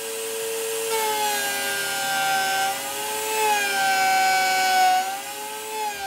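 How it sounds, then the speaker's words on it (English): A router cuts a circle in wood while the piece is slid down over a pivot pin, giving a steady high motor whine whose pitch dips and recovers as the bit meets the cut. "I do that by sliding it down over the pivot pin while the router is cutting."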